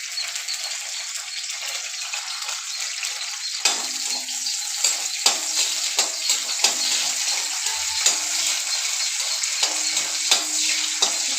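Peeled garlic cloves sauté in a pan for onion chutney, a bright continuous sizzle with repeated stirring scrapes and clicks, close and fairly loud with no talking.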